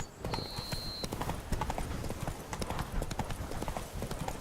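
Horse hooves clip-clop at a walking pace in The Witcher 3 video game, a steady close rhythm of hoof strikes with a brief high tone early on and faint game ambience beneath.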